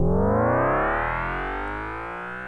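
Synth riser patched in Ableton's Operator synth, a thick harmonic tone gliding slowly upward with a distorted, effected edge, loud at first and fading gently over a couple of seconds, alone without talk.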